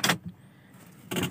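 Keys jangling beside a 2010 Mazda2 DE, two short bright metallic bursts near the start and end with a quiet pause between, close and alone.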